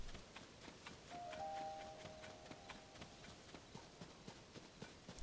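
Horse hooves clip-clop at a steady walking rhythm in a Zelda video game, faint and even under a low bed of game ambience, with a brief tonal chime partway through.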